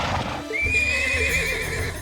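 A spooked horse in Trails of Cold Steel II lets out a loud, close, drawn-out whinny lasting nearly two seconds, with faint hoof clatter underneath.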